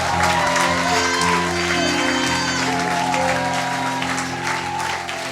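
A church congregation claps loudly and continuously during a service, mixed with music and voices throughout.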